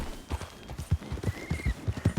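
Rhythmic clip-clop of horse hooves galloping at a steady pace, close and fairly loud, with a faint tonal whine in the background.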